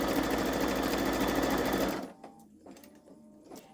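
A Babylock Solaris 3 (Vision) embroidery machine stitches an angel wings design with a loud, rapid, steady whir for about two seconds, then stops. Faint room sounds follow.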